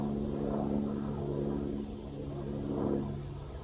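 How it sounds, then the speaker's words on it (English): A helicopter passes right overhead above a hot summer vegetable garden, a loud steady rotor and engine drone that swells and holds throughout, with no other voices. "That helicopter's coming like right over the top of us."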